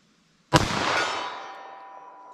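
One Underwood .380 ACP +P standard jacketed hollow point round is fired. It gives a single sharp, loud report that rings and decays over about two seconds, with no talking.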